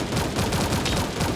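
Rapid continuous automatic gunfire in the cartoon battle royale game Sausage Man, loud and close, forming a dense burst of repeated shots throughout.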